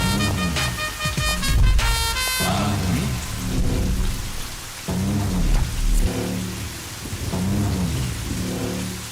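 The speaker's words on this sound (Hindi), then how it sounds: "इतना बारिश गिर रहा है" Heavy rain pours steadily, close and loud, with deep rumbles of thunder rolling underneath and a brief burst of music near the start.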